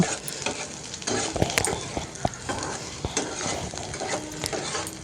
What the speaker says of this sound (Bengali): পেঁয়াজটাকে সামান্য ভাজা ভাজা করে নেব